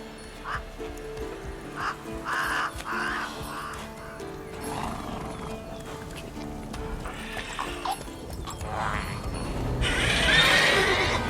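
Roach, Geralt's horse in The Witcher 3: Wild Hunt video game, whinnies several times over clip-clopping hooves, with game ambience and music beneath and a louder burst of noise near the end.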